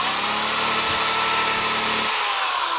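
Loud, steady high-pitched whine of a drill buffing metal with Flitz polish, continuous throughout, with a slight change in tone near the end.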